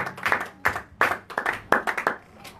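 A congregation claps in a short burst of sharp, fairly close hand claps, loosely rhythmic and loud, with no talking over them.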